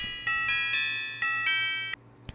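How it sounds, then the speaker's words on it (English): A bright synth bell sound doubled with brassy horns plays a short melody of five evenly spaced, sustained notes, followed by a brief percussive hit. "I like the bell preset that I doubled the horns with."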